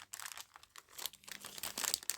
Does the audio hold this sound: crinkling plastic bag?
yes